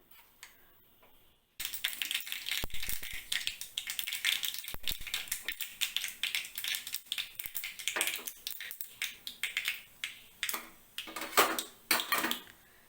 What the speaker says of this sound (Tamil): நல்லெண்ணெயை கொஞ்சம் தாராளமாக ஊற்றிட்டு அதில் கடுகு போட்டுக்கலாம்